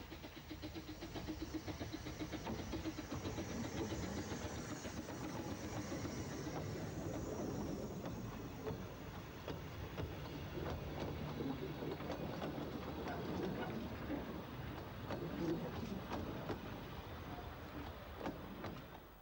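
Talyllyn Railway train standing at Abergynolwyn station, a steady close rumble of the engine and carriages with faint clanks and mechanical clicks running throughout, no voices.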